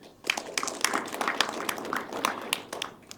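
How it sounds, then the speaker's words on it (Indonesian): A studio audience at a televised regional-parliament dialogue forum gives scattered applause, many individual claps overlapping at moderate, fairly quiet volume. "Boleh tepuk tangan kembali"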